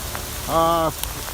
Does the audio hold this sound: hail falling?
yes